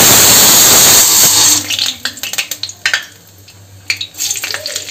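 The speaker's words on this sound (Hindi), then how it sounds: "मैं तेल और तेल डालने के बाद फिर डालूँ लहसुन" Garlic dropped into hot oil gives a loud, dense sizzle that cuts off abruptly, followed by quieter scattered clatters and scraping of a utensil in the pan.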